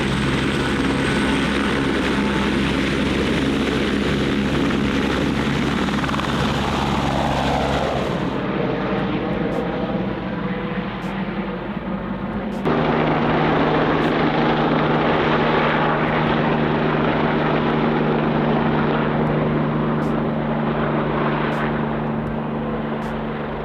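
Helicopters at a helicopter EMS conference drone loudly and continuously, a steady turbine whine and rotor rumble that shifts in pitch midway as one machine changes speed, with no voices.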